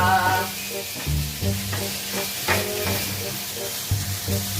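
Fish escabeche ingredients sautéed in a pan, a steady sizzle and hiss with stirring scrapes recurring over a background of music.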